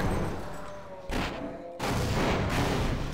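Grenades go off in Half-Life with a few heavy, booming blasts in quick succession, each leaving a rumbling tail, loud and close.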